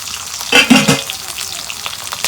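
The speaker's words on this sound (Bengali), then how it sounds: "তেল গরম হয়েছে, এখন আমি পেঁয়াজ দিয়ে দিব" Chopped onion and green chili frying in hot oil in a wok, a brief loud sizzling burst as they hit the pan, then a steady low crackle continuing on its own.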